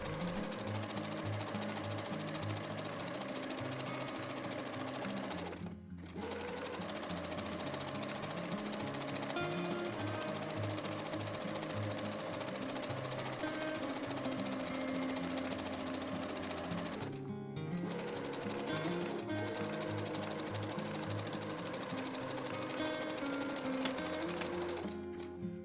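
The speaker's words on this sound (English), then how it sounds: "I'm now finishing the seam with a zigzag stitch" A sewing machine runs a zigzag stitch along a ruffle seam on a drawstring dress, a steady close mechanical whirr that stops briefly twice and resumes, with no talk.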